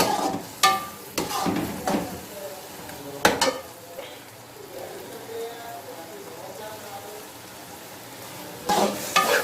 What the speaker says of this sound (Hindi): अब मैं इसमें गरम मसाला पाउडर को डाल रही हूँ और मसाले को अच्छी तरह